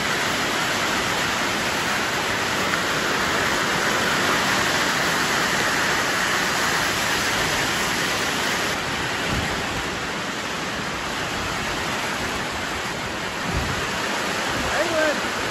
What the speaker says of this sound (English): That's pretty decent sized hail for around here.